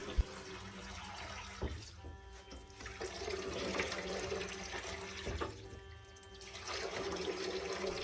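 Tap water runs steadily into a sink while a salt print is washed, a continuous splashing flow with a couple of faint knocks, close and fairly quiet.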